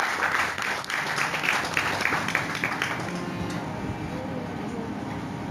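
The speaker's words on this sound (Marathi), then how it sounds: "म्हणून त्यांच्यासाठी एकदा जोरदार टाळ्या." Loud audience applause at a satsang spiritual gathering: dense, steady clapping that carries strongly for about three seconds, then gradually thins and softens.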